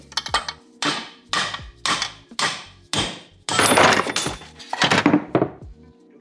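Hammer blows knock a heated Honda CR125R engine case loose: about eight sharp, close metallic smacks in a steady rhythm, each ringing briefly before the next.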